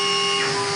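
A CNC machine starting to run its code gives off a steady electronic whine with several sustained tones, close and clear, over a low hum, with no talking.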